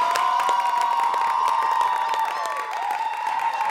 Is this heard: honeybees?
no